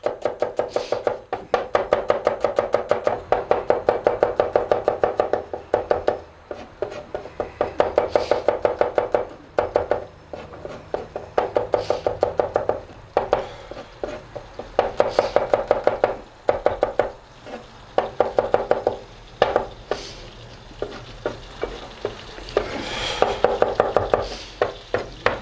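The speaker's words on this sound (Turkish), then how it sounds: "Arkasından soğanımızı, sarımsağımızı hemen kıymaya başlıyoruz" Rapid knife chopping of onions and garlic on a cutting board in quick bursts of steady taps, with short pauses between runs, close and crisp.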